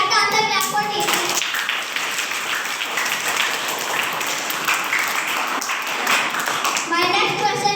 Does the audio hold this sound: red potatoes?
no